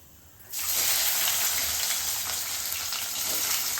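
Onion and mutton trotters hit hot oil for paya curry, starting a sudden loud, steady sizzle that keeps going evenly to the end with no talking.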